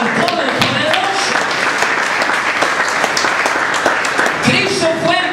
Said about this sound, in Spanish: Denle un aplauso al Todopoderoso.